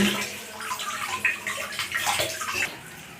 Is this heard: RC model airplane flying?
no